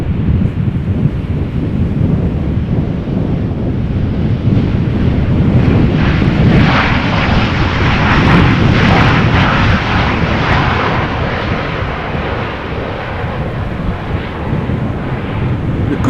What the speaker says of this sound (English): this is KLM flight 1224, arriving from Paris, Charles de Gaulle. Boeing 737-800.